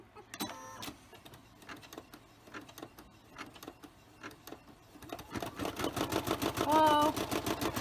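A Brother SE425 embroidery machine runs a satin stitch applique, starting with sparse clicks and ticks, then building into a loud, rapid, steady mechanical stitching rhythm near the end.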